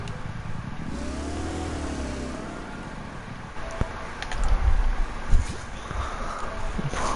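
Engines of a four-engine boat racing across water in the building game Trailmakers, a steady mid-pitched motor drone with a low rumble that surges louder and rougher partway through.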